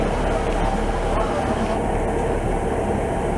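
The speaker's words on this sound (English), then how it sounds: "There's a train leaving now." Merseyrail train pulling out of Chester station, a broad rumbling roar of rail traffic that stays steady and loud throughout, with no clear voices over it.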